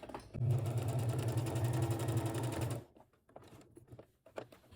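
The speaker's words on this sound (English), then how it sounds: "We are sewing on the sewing machine" A sewing machine runs steadily for a few seconds with a fast, even mechanical whir while closing the lining of a lined bag, then stops, leaving faint handling noises.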